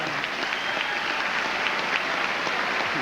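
An audience at a live televised comedy event breaks into applause and cheering, a dense, steady wash of clapping that fills the whole moment without pause.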